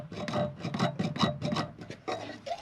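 A cheap throwaway plastic ruler is scratched against a mower blade under a Simplicity Courier zero-turn deck, producing about eight quick, close rasping strokes in an uneven rhythm.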